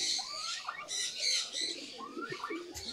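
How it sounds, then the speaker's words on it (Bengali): Young Giribaz pigeons flying up from a loft, with bird calls and wing sounds in a steady mix of chirps and squawks, close and moderately loud, with no talking. "অধিকাংশ বাচ্চা কবুতর দেখেন কিভাবে ছড়াই ছিটে উঠতেছে"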